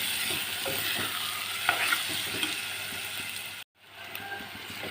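Chana dal and egg curry stirred in a pan, with soft scraping strokes over a steady sizzle that cuts out briefly near the end and then resumes.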